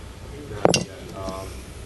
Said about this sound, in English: You want to tap the line. It'll make it easier to break.